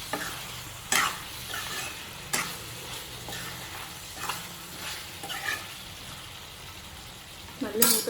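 Curry being stirred in a pan after lemon juice is squeezed in, with sharp scrapes of the spoon at irregular intervals over a steady low sizzle, close by.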